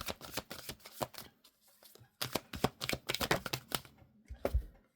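Tarot cards are shuffled close by in two quick bursts of crisp, rapid riffling split by a short pause, ending with a few soft taps.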